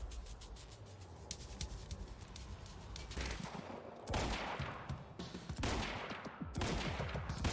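Gunfire from snipers and other weapons in the game Quantum Break, heard as a steady wash of distant shots that gives way to heavier, louder blasts in the later seconds, with no speech.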